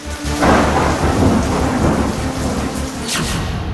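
Heavy August monsoon downpour in Madhya Pradesh, a loud, dense hiss of rain hammering surfaces. Rolling thunder rumbles through it, close and strong throughout, and no one speaks.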